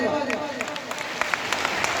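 Audience clapping hands during a Marathi devotional gathering for Lord Omkareshwar, a spread of scattered claps with sharp transients running steadily under chanting voices.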